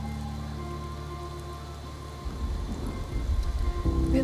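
Steady rain falls in a video game scene, a continuous soft patter with low rumbling beneath, growing louder and denser after about two seconds and staying heavy to the end.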